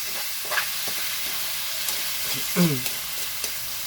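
Chopped bottle gourd sautéing in a pan, a steady low sizzle with a few scraping stirs of a utensil, the loudest clatter near the end; no talking.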